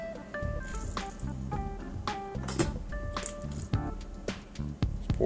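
Sriracha chili sauce squeezed and poured into a bowl, wet squishing spurts and drips in irregular bursts, close up, with background music.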